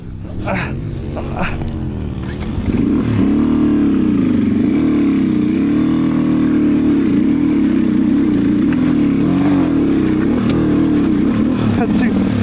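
Motorcycle engine running steadily while riding on a rough mountain trail from Jomsom toward Thorong La Pass Phedi in Nepal, a loud continuous drone close to the mic with wind, rising after a quieter opening.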